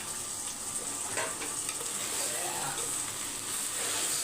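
Tomatoes go into a hot pan alongside prawn thokku and sizzle hard, a dense, close, continuous hiss with faint stirring scrapes and no voices.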